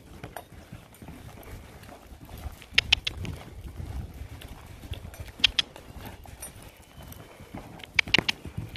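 Cantering horse's hoofbeats thud in an uneven rhythm over windy outdoor background noise, with a few sharper clops standing out among the muffled strides.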